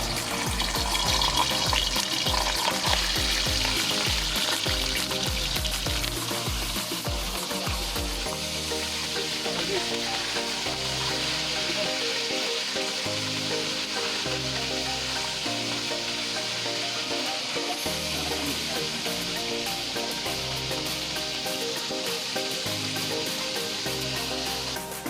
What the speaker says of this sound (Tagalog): half fry lang yung gagawin natin